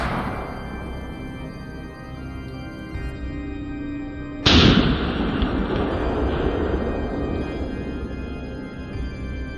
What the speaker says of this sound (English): Finger resting gently on the trigger. Boom!